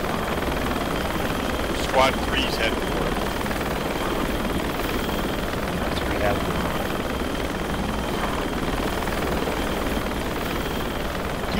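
A military helicopter in a video game drones steadily throughout, its rotor and engine noise constant and loud beneath radio chatter from people talking.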